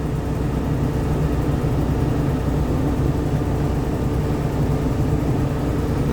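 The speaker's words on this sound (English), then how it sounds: "You can hear the engine roaring" A diesel truck engine running hard during particulate filter regeneration gives a continuous, even low roar and hum with no change in pitch, heard up close and alone without talk.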